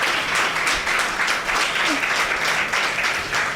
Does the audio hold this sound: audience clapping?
yes